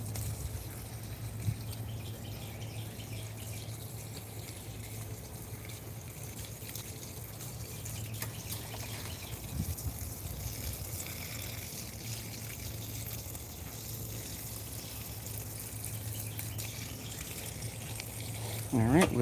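Water trickles and drips steadily while a garden is watered, a soft continuous flow over a low hum, with a voice briefly heard partway through.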